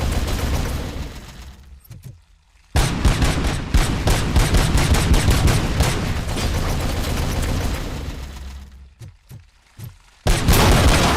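Turret gunfire in the action game Robocop: Rogue City, long loud bursts of rapid automatic fire with booming impacts, broken by short lulls and isolated shots.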